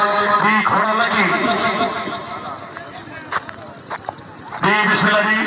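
Horse hooves clip-clop at a horse riding club event in Kashmir, Pakistan, with a horse neighing at times, all under a loud announcer speaking over a crowd throughout.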